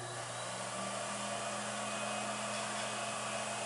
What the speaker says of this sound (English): you can hear the air coming out of the air track